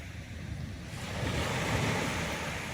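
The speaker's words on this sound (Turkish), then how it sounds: "Denizi duyuyor musunuz?" Steady wash of sea surf breaking and rushing on a pebble beach at Kumburnu, Ölüdeniz, building in loudness halfway through, with light wind noise and no voices.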